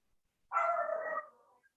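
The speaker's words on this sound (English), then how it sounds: "Right now, my dog's barking." A dog lets out one drawn-out bark that trails into a whine, fairly faint and alone against silence.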